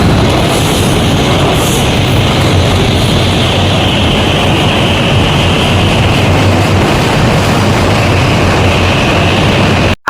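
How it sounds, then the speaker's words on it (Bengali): A train near Hardinge Bridge in Pabna makes a loud, close, continuous rumble with a steady mechanical drone that holds for about ten seconds before cutting off abruptly. "এইদিকে ট্রেনও চলে আসছে"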